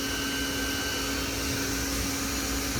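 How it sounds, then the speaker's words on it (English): The spindle of a 2000 Anderson Stratos SUP CNC router runs while cutting a circle in air, a loud, steady whine and rushing drone with a constant tone that holds unchanged throughout. "spindle's turning on, and it's just cutting a circle in air."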